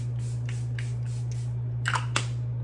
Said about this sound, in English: I'm going to spray with my Charlotte Tilbury's Airbrush Flawless Setting Spray